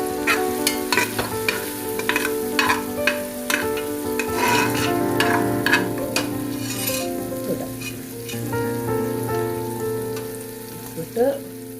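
Spoon stirring sautéed tomato and onion in a pan for mixed vegetable biryani, busy scraping and clinking over a continuous loud sizzle, close up.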